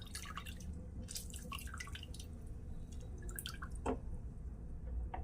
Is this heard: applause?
no